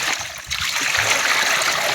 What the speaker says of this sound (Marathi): तर आपण याच्यामध्ये पाणी टाकणार आहे